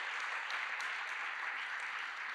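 Church congregation applauding for Jesus during a sermon, a steady wash of clapping that holds evenly for a couple of seconds with no voices on top.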